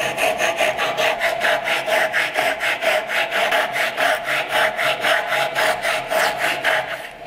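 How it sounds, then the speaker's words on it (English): A crosscut hand saw cuts a tenon shoulder in clamped wood, with steady rhythmic strokes, about three per second, close and loud with no talking. "So this is the cross cut saw, and this is the tenon portion. So I'll just be cutting into this."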